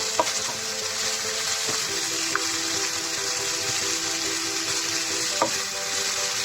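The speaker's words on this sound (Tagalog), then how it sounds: "Hintayin lang natin na maluto yung onion natin." Onions frying in a pan for chicken curry give a continuous close sizzle, dotted with a few sharp clicks from stirring, with no talking.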